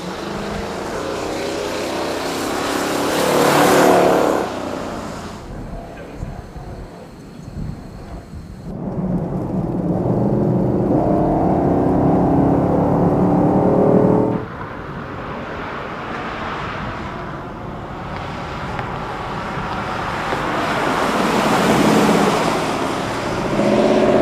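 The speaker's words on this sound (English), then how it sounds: "That's that distinctive sound of the Hemi" A mostly stock Mopar Hemi V8 from a 1969 Daytona or 1970 Superbird wing car, running on its original resonators, gives a loud, deep rumble that swells and drops with throttle over a long pass.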